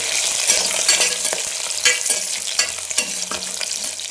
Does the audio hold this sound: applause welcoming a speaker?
no